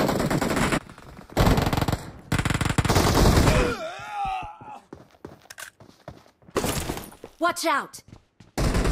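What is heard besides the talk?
gunfire in BGMI video game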